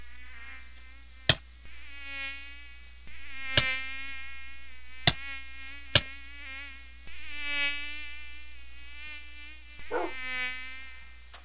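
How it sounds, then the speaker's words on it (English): Mosquitoes in the Minecraft TerraFirmaPunk modpack buzz close by in repeated high whining swells, broken by a few sharp clicking hits. "I hate mosquitoes. They're so horrible. It's like one of the worst mobs ever."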